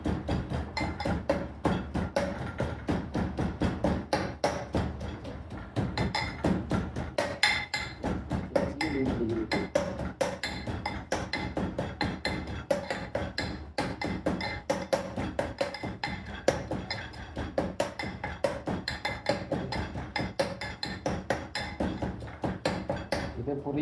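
Garlic pounded with salt for biryani: rapid, steady pestle strikes knock and clink in a continuous rhythm, close and fairly loud, going on without pause throughout.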